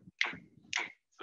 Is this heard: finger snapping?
yes